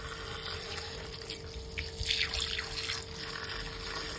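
Running water splashes and trickles as freshly picked saag greens are washed by hand, with a steady flow and brief louder sloshes in the middle, no voices.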